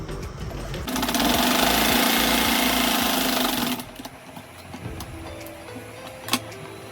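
A sewing machine stitches Ankara fabric shorts in one steady, fast run of about three seconds, close and alone. It then stops, leaving faint handling clicks and rustles.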